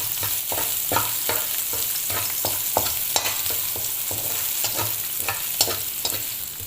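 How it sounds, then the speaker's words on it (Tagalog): Garlic and meat sauté in a pan for Marinduque batchoy, a steady loud sizzle broken by repeated sharp scrapes and clinks of a spatula stirring, with no talk. "gigisahin na natin yung ating karne"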